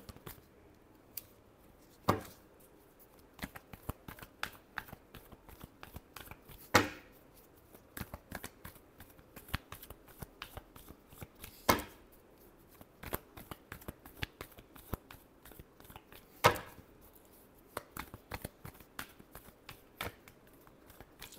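Tarot cards being shuffled by hand, a series of short, crisp riffling bursts and soft taps spaced a few seconds apart, close and fairly quiet, with no talking.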